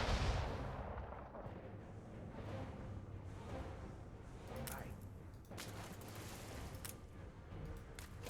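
Rumbling naval cannon fire hits a ship in Anno 1800: repeated booming blasts with crackling impacts over a dense battle din. A voice speaks through parts of it.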